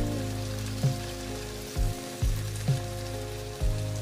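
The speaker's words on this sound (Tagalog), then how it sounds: "Tapos maglagay tayo ng vinegar." Vinegar going into squid adobo in a hot pan, steady sizzling and bubbling with a hum of tones underneath and a few soft knocks, no talking.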